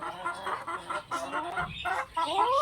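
Chickens in a coop cluck continuously in a busy, overlapping chorus, close by, with a few louder squawks rising above the murmur.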